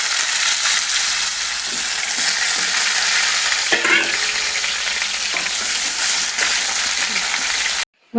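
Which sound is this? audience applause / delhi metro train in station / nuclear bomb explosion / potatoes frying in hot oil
potatoes frying in hot oil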